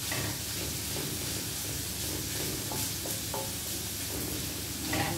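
Pork and garlic fry in a pan for adobong sitaw, sizzling in a steady, dense crackle throughout, with a few soft stirring clinks over the continuous hiss.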